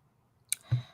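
Keyboard typing picked up over a phone or call line: a sharp click followed by a heavier thump about a quarter second later, then a softer tap, all faint and close with no talk.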